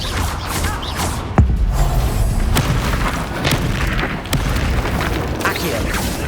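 A Confringo fire spell bursts in Hogwarts Legacy amid continuous loud combat noise, with one sharp booming impact standing out and several lighter cracks following, while voices shout spell names over the battle.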